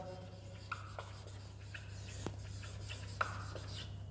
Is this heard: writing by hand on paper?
yes